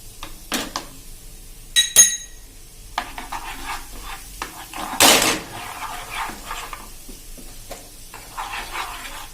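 Semolina roasting in a pan while being stirred, with scraping spoon strokes, clinks of a utensil against the metal and a soft sizzle, sounding close and intermittent with a louder scrape midway.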